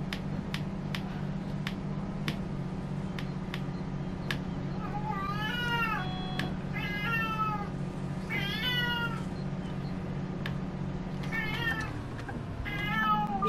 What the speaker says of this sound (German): das ist meine Katze, die gerade mault